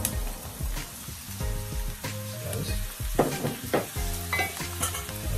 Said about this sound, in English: You just want to go ahead and stir around this chickpeas into your curry